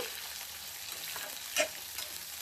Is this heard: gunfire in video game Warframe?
no